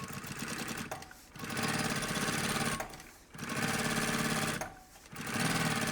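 A sewing machine stitches around the outline of a puffer backpack in three sustained runs of rapid mechanical whirring, with short pauses between them.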